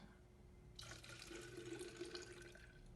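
Vanilla water is poured into a glass in a steady, close stream that starts suddenly and runs for a couple of seconds under a faint low hum.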